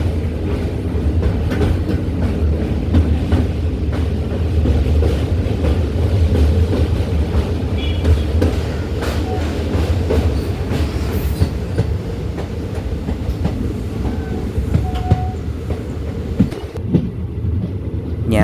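Madurai Punalur Express hauled by a WDP4 diesel locomotive rolls across the Kallada River bridge just past Punalur station, heard from on board as a steady loud rumble with rhythmic wheel clatter throughout.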